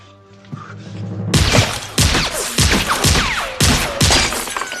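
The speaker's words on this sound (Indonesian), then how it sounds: "terdengar suara tembakan. Dor, dor, dor." A burst of gunfire in a shootout scene from the film Dumb and Dumber: about six loud, sharp shots in a fairly regular sequence, each with a crashing echo, following a brief low musical tone.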